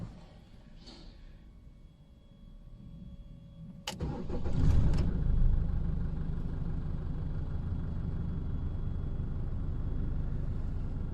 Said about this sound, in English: about to start the engine